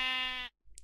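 A sheep in the Minecraft SevTech Ages video game gives a single short, wavering bleat up close, followed by a brief silence and a faint click.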